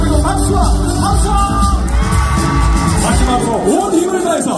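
A festival audience at a lotus lantern celebration concert in Incheon keeps up loud clapping, yelling and whooping, a dense roar with a singer's amplified voice weaving through it.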